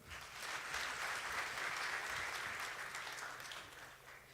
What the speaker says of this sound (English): May we kindly give ourselves a round of applause.